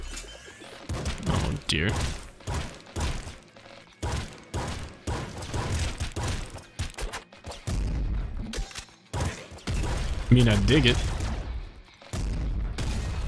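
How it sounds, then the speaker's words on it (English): Explosions from the video game Nuclear Throne: a run of loud, punchy booms and bursts of gunfire-like blasts come in rapid clusters, with someone talking over the gameplay. "I like the explosion sound."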